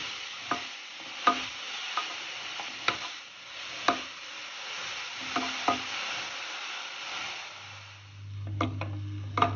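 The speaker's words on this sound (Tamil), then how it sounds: "நல்லா பச்சை வாசனை போகிற அளவுக்கு வதக்கணுங்க." Grated carrots sautéing in ghee sizzle softly and steadily while a spoon scrapes and taps the pan at irregular intervals, close and alone, with a low hum near the end.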